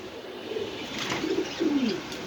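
Pigeons cooing on a breeding farm, a few soft, low, warbling coos in close succession over a quiet background.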